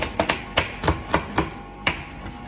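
A block of chocolate being broken into pieces by hand, about eight sharp snaps and cracks in an uneven rhythm, close and clear with nothing else heard.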